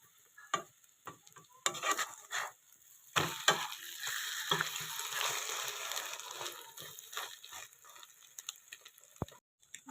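A tomato paratha stuffed with onion and egg fries in a pan while it is pressed down. It gives an uneven sizzle that swells and fades as it is pushed, with scattered crackles and a few dull knocks, and there is no talk.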